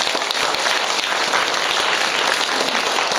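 A loud, dense round of applause from an audience at a Catholic church seminar, steady thick clapping that fills the whole moment without a break.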